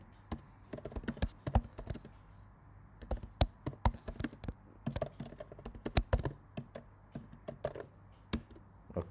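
Fingers type on a computer keyboard at close range: quick, irregular clicks and taps in short bursts, fairly quiet, with no talking.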